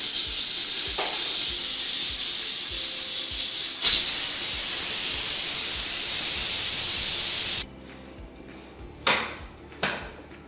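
A pressure cooker cooking ojri (tripe) on a stove, letting out a loud continuous steam hiss that rises sharply midway, then cuts off, leaving a quieter room with a couple of brief sharp knocks.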